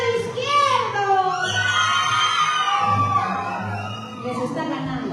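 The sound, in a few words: crowd shouting and cheering, left side of audience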